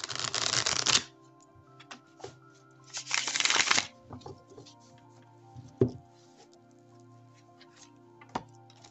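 Oracle cards being shuffled by hand during a divination reading, two loud riffling bursts near and close, followed by softer taps and card handling against a quiet room hum.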